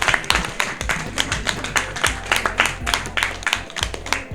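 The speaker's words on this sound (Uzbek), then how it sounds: "Qarsaklar bilan olqishlab qo'yamiz." Audience clapping at a book club prize ceremony in a hall, a steady, fairly close round of individual hand claps with no talk over it.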